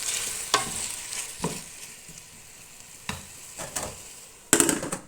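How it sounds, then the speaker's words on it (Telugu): Chopped tomatoes with salt sizzle in a pan for mutton biryani, a soft continuous frying hiss broken by several brisk scraping stirs and a sharper clatter near the end. "ఇందులో కొంచెం సాల్ట్ వేసుకునండి మగ్గనిద్దామండి టమాటాలు"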